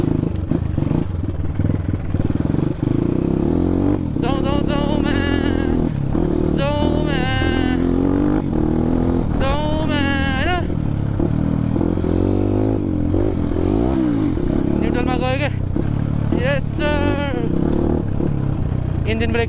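Enduro motorcycle riding off-road on a wet, muddy gravel track in Nepal, the engine droning and revving loudly and continuously while a rider talks and shouts over it.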